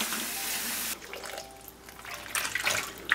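White mushrooms being washed in a large pot of cold water, with splashing and running-water noise that surges, drops to quiet sloshing, then swells again in close, loud bursts.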